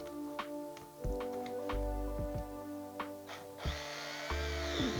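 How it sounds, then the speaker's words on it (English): Slot car tyres spun against sandpaper, a small motor whining in short bursts with rising and falling pitch, then a steadier gritty whir near the end. "we'll give it a little whiz on the sandpaper"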